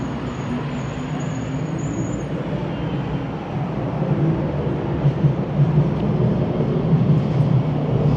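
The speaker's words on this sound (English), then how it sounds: "All right, we're gonna head into the subway station here." A subway train in a Toronto station gives a steady, loud rumble and roar that swells slightly toward the end, with no talking over it.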